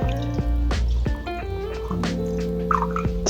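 Seltzer water is poured from a bottle into a cocktail glass, giving a close, steady liquid fill with dripping and fizzing over a few seconds, plus faint clinks near the end.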